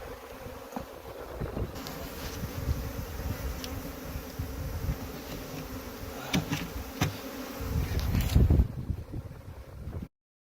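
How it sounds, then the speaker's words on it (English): Native bees buzz around a swarm trap outdoors in summer, a steady, moderately close drone of many insects with light wind in the background. The buzzing swells slightly toward the end, then cuts off. "catch some native local bees in the swarm trap"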